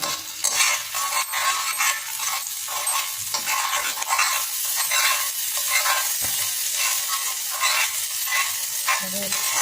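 Pav bhaji mixture with coriander leaves and a pinch of masala being stirred in a pan, a steady scraping and soft sizzle running throughout with occasional utensil clinks, close and fairly even.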